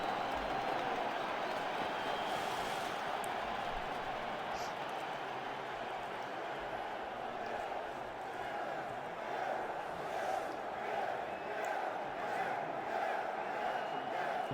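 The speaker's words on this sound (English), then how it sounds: "Come on, the crowd is getting impatient." A large arena crowd in CivCity: Rome rumbles with a continuous, even roar of many voices, a dense murmuring wash that holds steady throughout without distinct cheers or peaks.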